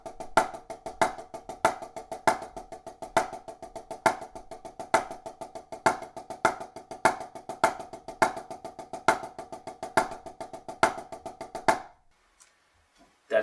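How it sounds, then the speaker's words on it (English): A drum lesson exercise of single and double paradiddles: crisp, evenly spaced strokes in a constant sixteenth-note pulse with regular accents, clear and close for about twelve seconds before stopping abruptly. "That's the double and single paradiddle."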